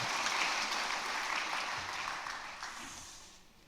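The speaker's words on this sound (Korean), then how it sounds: "박수로 격려하겠습니다" Church congregation applauding two honored elder pastors at a Sunday afternoon longevity thanksgiving service, steady broad clapping that fills the room and slowly fades toward the end.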